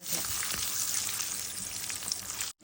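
Cashews and raisins frying in ghee and oil, a steady close crackling sizzle that runs throughout at an even level before cutting off abruptly near the end.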